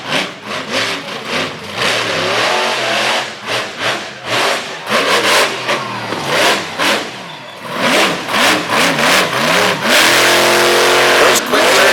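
Monster truck engine roars and revs in bursts through a tight 360 turn on a dusty dirt arena track in Durham, Connecticut, loud and close, with an announcer talking over it.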